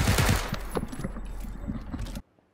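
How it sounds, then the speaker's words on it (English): Dense automatic gunfire in PUBG: loud, heavy bursts up front that thin into scattered shots and clatter, then stop abruptly. There is no speech. "I'm getting shot from behind."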